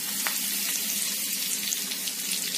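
Curry leaves fry in hot oil in a pan for a homemade kadhi, giving a steady, dense sizzle and crackle throughout, close up and with no voices.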